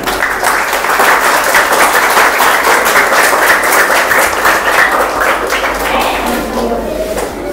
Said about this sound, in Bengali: ছোট করে হাততালি।